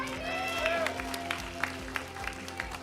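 An audience at a Democratic Party political concert in Daegu applauds steadily, with sparse scattered claps over a continuous hum, while a voice carries over the top.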